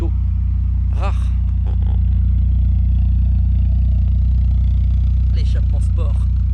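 Peugeot 106 S16 idling steadily with its period sport exhaust, a constant low engine drone throughout, with a voice speaking briefly over it.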